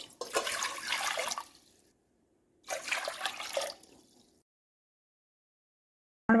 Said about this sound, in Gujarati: હવે આ જ વાડકીના માપથી આપણે 3 વાડકી એક તપેલીમાં પાણી લઈશું।